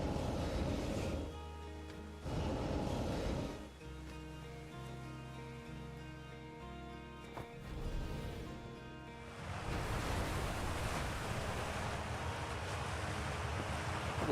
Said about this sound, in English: Just a waterfall.